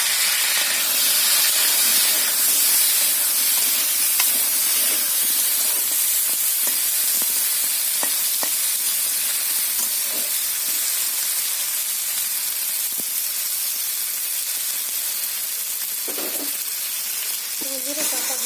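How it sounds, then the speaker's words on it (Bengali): Raw tomato and potato frying in hot oil in a wok give a steady, close sizzle and hiss throughout, with a few soft stirring clinks and scrapes near the end and no talking. "কড়াইতে আমি তেল দিয়ে দিচ্ছি। কাঁচা টমেটো আর আলু দিয়ে দিচ্ছি।"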